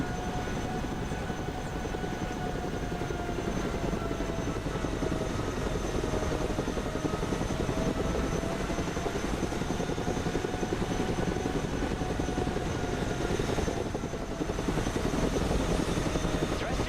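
A Chinook transport helicopter in the game Broken Arrow flies with a continuous, loud, steady rotor and engine drone plus a faint whining tone that bends slowly in pitch, unbroken for the whole stretch.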